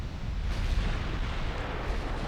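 18-inch main guns of a battlecruiser firing in a naval video game, a dense, heavy rumbling roar of artillery blasts that stays loud throughout, deep booming low end with no talking over it.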